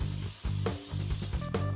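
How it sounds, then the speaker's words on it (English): Silicone release spray sprayed into a silicone mold, several short hissing bursts in quick succession, close and moderately loud, with no talking. "the first and ever so important step is to line my silicone mold with this silicone, what is it called? Silicone spray."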